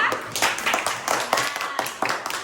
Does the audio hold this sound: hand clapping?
yes